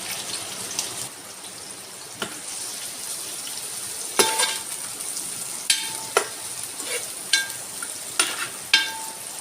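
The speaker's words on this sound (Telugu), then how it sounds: "ఇప్పుడు దీంట్లో వేసుకొని బాగా ఫ్రై చేసుకోవాలి" Sliced onions and green chilies frying in hot oil for a fish curry, a steady sizzle broken by sharp crackles and stirring clatters that grow more frequent in the second half, no voices.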